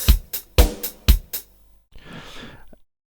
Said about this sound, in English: simple drum pattern here, which sounds like this.